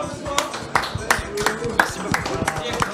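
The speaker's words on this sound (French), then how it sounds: "Bravo Madame Carensac, on peut l'applaudir." Crowd applause with scattered sharp claps over a lively room, steady and moderately loud throughout, with some background voices.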